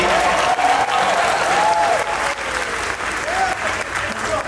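Lively applause and clapping from a crowd at Star Wars Galactic Nights at Disney's Hollywood Studios, continuous and close, with voices talking over it throughout.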